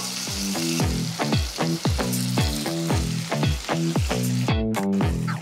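Brinjal masala curry fries in a pan over low heat, giving a loud, continuous sizzle with quick, rhythmic bubbling and scraping pops close up. No voices are heard.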